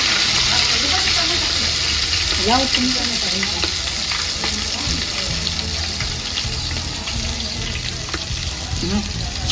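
Cumin, curry leaves and ginger-chili paste sizzle and crackle in hot tempering oil in a home kitchen, with stirring and a brief splash of water. A voice talks faintly in the background.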